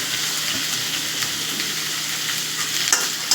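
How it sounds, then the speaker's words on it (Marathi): Capsicum, cabbage and spring onion sautéing in a pan for idli chilli, a loud steady sizzle with stirring scrapes and a couple of sharp utensil clicks near the end. "शिमला मिरची घालते आणि चांगलं परतून घेते."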